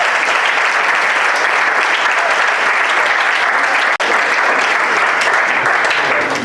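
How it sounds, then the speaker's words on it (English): A crowd applauds the debate teams at a national debate championship final in Togo, with loud, sustained, even clapping throughout. "Please, once again, clap for them."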